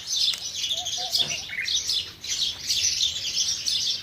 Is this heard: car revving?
no